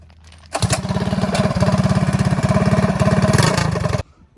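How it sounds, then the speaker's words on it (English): A Predator engine on a minitrike starts and runs being tuned, a loud, close, steady rapid chug for about three and a half seconds before cutting off abruptly. "He's tuning the motor."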